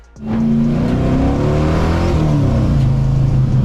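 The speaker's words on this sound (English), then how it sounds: "A Ram Air 400 that sounded like the apocalypse with a throttle." A powerful Pontiac Ram Air 400 V8 muscle car engine roars loudly and steadily, revving up and holding a deep, throaty note for several seconds.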